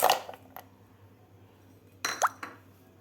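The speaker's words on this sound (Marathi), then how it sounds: "बर्फाचे कडे घालायचे आहे" A few hard clinks and plops as ice cubes drop into a glass of sugarcane juice, one near the start and a cluster about two seconds later.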